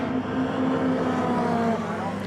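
A Lotus race car heads down the pit lane at Brands Hatch to join the race, its engine a steady, moderately loud mid-range drone that holds without pause.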